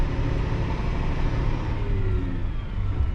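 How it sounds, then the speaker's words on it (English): Big heavy truck driving at a heavy equipment playground, a steady loud engine rumble with no voices. "This is a big damn truck, man."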